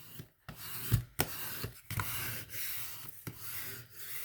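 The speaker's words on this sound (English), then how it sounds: "So what I did was go ahead and burnish it on real good" A waterslide decal being burnished firmly by hand, giving repeated dry rubbing and rasping strokes, close and fairly quiet, with short pauses between passes and no talking.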